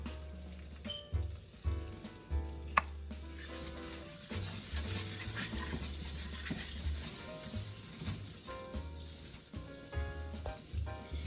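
Chilean sea bass seasoned with salt and pepper fries in hot oil in a pan, with a steady close sizzle and crackle plus occasional sputtering pops, with no talking.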